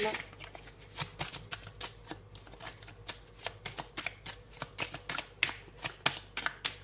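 Tarot cards are handled during a horoscope reading, giving a rapid series of crisp flicks and shuffling snaps at close range while a person talks over them.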